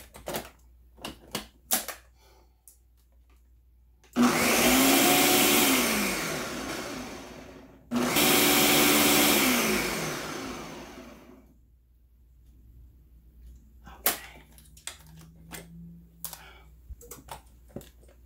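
Flan mixture is whipped in two loud whirring bursts of about four and three seconds, separated by a brief pause. Light clicks and knocks come before and after, and no one speaks.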